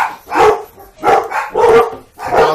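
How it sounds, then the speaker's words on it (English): Several dogs bark angrily in repeated loud bursts, near and close together, with no talk over them, during an imperial stout homebrew tasting indoors. "dogs are angry because we're drinking beer."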